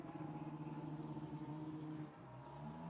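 A Lamborghini Super Trofeo race car pulls out of the pit lane at Watkins Glen International, its engine a steady, close mid-pitched drone with harmonic layers that drops slightly in level near the end.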